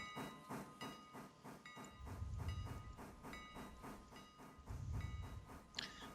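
A steam train in the Railroader video game chuffs in a regular rhythmic exhaust beat with hissing steam and low rumbling surges, moderately loud and continuous, with no talking.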